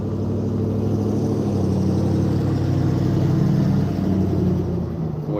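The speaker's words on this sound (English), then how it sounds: "I'll wait for this loud truck to go by." A loud truck rolls past nearby with a heavy, steady engine drone and rumble that swells slightly in the middle, continuous for several seconds with no talking.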